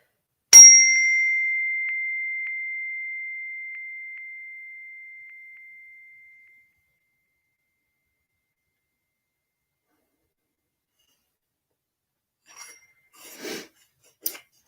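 A single bell struck once rings out with a clear sustained tone, slowly decaying to silence over several seconds; faint rustling follows near the end.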